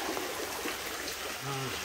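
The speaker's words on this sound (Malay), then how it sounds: "Tengok, air pun dah laju." Fast-flowing stream water swollen by heavy rain rushes steadily and close by, a constant broadband wash with no pause, while a faint low voice murmurs near the end.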